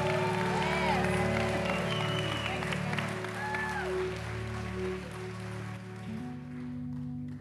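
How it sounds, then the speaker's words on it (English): A church congregation in Southeast Texas applauds a guest speaker. Sustained clapping rises over held organ or keyboard chords and fades slightly toward the end, while a voice talks faintly beneath it. "why don't we put our hands together, give Sean Nepstead a big Southeast Texas welcome"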